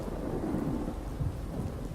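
Steady low rumble of a thunderstorm with rain in the video game Oknytt, a continuous broad roar with a slightly louder swell partway through and no voices.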